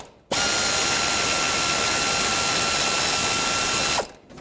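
A power ratchet spinning off 14mm nuts from the engine mount studs of a 2003–2008 Toyota Corolla, one loud steady whirring buzz lasting about four seconds before stopping abruptly.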